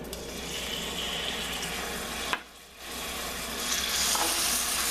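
Chicken livers sizzle and fry steadily in a pan over a moderate flame, a continuous close crackle with stirring and a brief dip in the middle.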